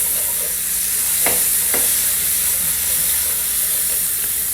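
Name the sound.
green pepper and celery pieces sautéing in a pan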